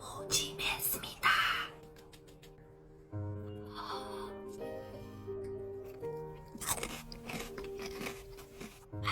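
Fried chicken being bitten and chewed in an ASMR-style eating scene: close, crisp crunches come in bursts at the start and again later, over soft tonal background music.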